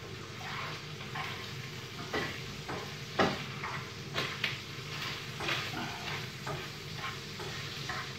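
Eggs sizzle and fry steadily in a pan while a utensil stirs and scrapes at them in irregular strokes, close and moderately quiet, with no talking.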